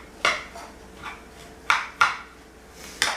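Ghost pop ingredients stirred in a bowl, several separate clinking knocks of a utensil against the dish with quiet pauses between them.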